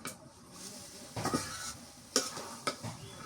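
Gourd greens with spices stirred in a hot pan, a few scraping spoon strokes and clinks over a soft background sizzle, close and fairly quiet.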